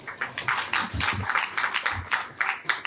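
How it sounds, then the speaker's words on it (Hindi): Group applause for Kavita Mata at a house satsang in Faridabad, a steady ragged patter of many hands clapping throughout, fairly close, with no talking over it. "कविता माता के लिए ताली तो बजाओ एक बार"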